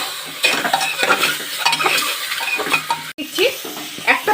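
Chicken leg pieces frying in butter, with a continuous sizzle and spatter, utensil scrapes and clatter in the pan, close by.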